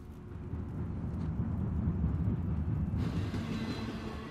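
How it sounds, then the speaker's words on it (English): A train rumbles in the Uncharted: The Lost Legacy video game, a low continuous rolling roar with a brighter rattling layer entering partway through, steady and fairly loud with no talk. "Oh, the train's gonna blow."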